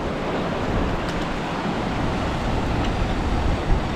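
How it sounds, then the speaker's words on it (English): Ocean waves rolling onto a Maldives beach, a continuous loud broadband roar of surf with faint wind noise and no speech. "Oh, the waves are coming a bit harder than I thought."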